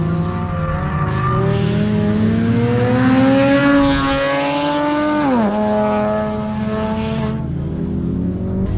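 A VTEC Cup race car engine roars loudly and steadily at Tor Łódź, its pitch climbing, then sweeping down sharply as it passes, before revving again and fading slightly.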